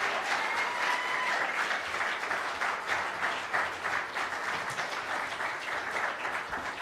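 Congregation at a bridging service applauds its volunteers, warm sustained clapping from many people that swells and eases slightly while they move to their seats, heard alone without speech.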